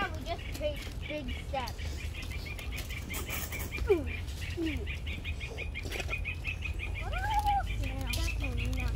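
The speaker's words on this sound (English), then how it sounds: "No, that's not a chicken. That's bird." Wild birds in a park call in scattered chirps and whistling calls at moderate distance, with occasional wing flapping, over steady outdoor background noise while people talk nearby.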